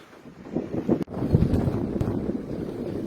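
Gusty wind sweeping over a cold lake, rumbling and buffeting close against the microphone, with one sharp knock midway and no voices.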